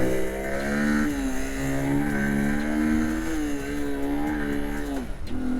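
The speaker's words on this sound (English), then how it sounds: "There we are, revving out quite nicely." Small Honda C70 Passport motorcycle engine revving steadily and close by, its pitch rising and falling in smooth swells before dropping off near the end.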